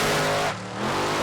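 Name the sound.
nitro and methanol drag race cars launching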